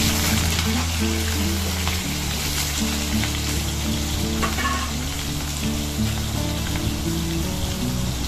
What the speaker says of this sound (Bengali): আর ওদিকে তো ডিম ভাজছি